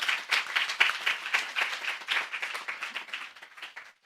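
A classroom audience at a careers in management and human resources session breaks into lively applause, many hands clapping densely and steadily from start to finish, fading slightly near the end.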